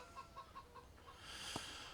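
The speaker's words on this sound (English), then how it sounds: "There we have our little chickens." Chickens cluck in the farming video game Farming Simulator 17, a quick run of five or six short clucks followed by a brief louder squawk under rising background ambience, with no talk.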